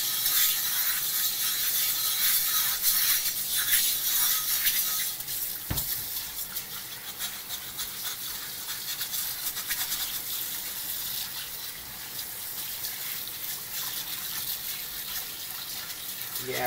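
A chainmail scrubber rasps steadily over a greasy cast iron cornbread pan with center grooves under running water, a continuous close scratching wash with the tap hissing throughout and a brief knock partway through.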